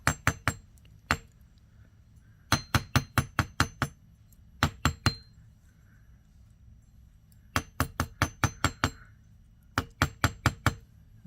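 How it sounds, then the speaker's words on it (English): Bursts of quick, sharp metallic taps from a nylon hammer work-hardening metal earring wire, in rapid groups of three to six strikes separated by short pauses, close and ringing. "we're going to get our nylon hammer, and we're going to give them a few taps to work harden them"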